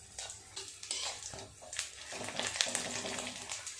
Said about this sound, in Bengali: এই বড়াগুলো উল্টে পাল্টে ভালো করে ভেজে নেব